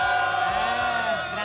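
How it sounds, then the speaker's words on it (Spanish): Men in a television studio audience shout and cheer together, a dense, loud, continuous crowd roar with no pauses. "Pero también hay gritos de los caballeros."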